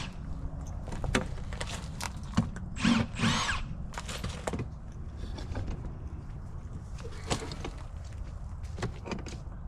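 Power drill backing screws out of the inside panel of an old fridge, heard as repeated short whirring bursts at close range with clanks and handling noise between them.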